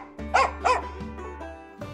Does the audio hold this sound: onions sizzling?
no